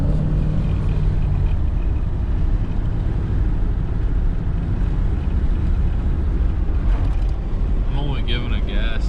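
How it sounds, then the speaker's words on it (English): A 1993 Chevrolet Caprice wagon engine rumbles steadily up close, its dense low drone occasionally rising with bursts of throttle that spit and sputter. "I'm only giving it gas like every now and then like that because you can feel it spit and sputter."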